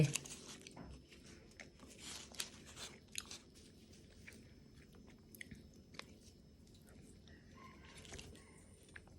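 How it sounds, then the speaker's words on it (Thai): Ice cream being eaten close to the mic, soft chewing and wet smacking with a few faint crunchy bites, over a low outdoor background hiss. "กินไอติมจ้ะ"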